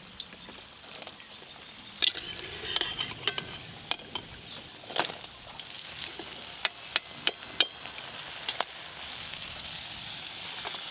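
Deep-fried khaja dropped into sugar syrup, giving a soft, continuous hiss broken by scattered clinks and scrapes of utensils against the pan, close and fairly quiet.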